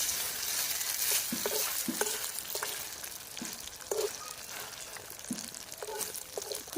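Squeezed Maggi noodles fry gently on low heat, giving a soft, steady sizzle with periodic light taps and scrapes of a spatula.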